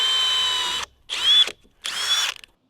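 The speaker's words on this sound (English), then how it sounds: "I'm using a 1/2 inch drill bit for 1/2 inch bolts" A power drill with a 1/2 inch bit bores bolt holes in a pressure-treated wood sill plate during house construction, sounding as three short, loud whining bursts separated by brief silences.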